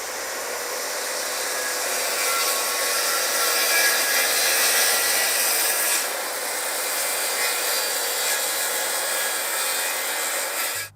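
A power saw cuts steadily through a wooden panel for a custom subwoofer box, a continuous loud broadband whine holding for about eleven seconds without pause.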